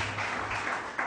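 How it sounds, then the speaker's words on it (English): Round of applause from a Melbourne audience, a brief, soft wash of many hands clapping, quiet and somewhat distant. "Gratuitous round of applause, Melbourne"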